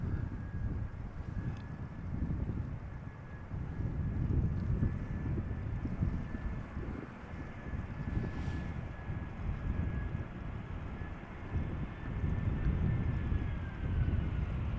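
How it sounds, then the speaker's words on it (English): Airplanes in the background approaching the glide slope at Schiphol Airport, heard as a steady low distant roar with wind buffeting the microphone and a faint thin whine running throughout. "Good visibility, airplanes in the background,"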